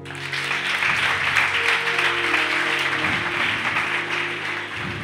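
A church congregation at a French-language sermon on marriage applauds and cheers in a steady, dense wash of clapping and voices, loud and sustained throughout, with music-like tones humming underneath.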